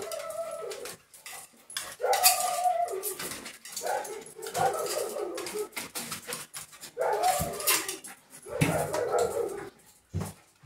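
A dog whimpers and whines in short, strained bursts during a rat and mouse hunt, close to the microphone, with brief pauses and some scuffling between the cries.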